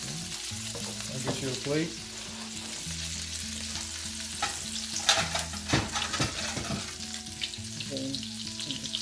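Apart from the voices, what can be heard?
turkey patties frying in oil, flipped in the pan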